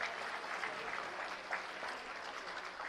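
Steady applause from an audience at the inauguration of a new school block at a Delhi government school, a continuous wash of many hands clapping, moderately distant and even throughout.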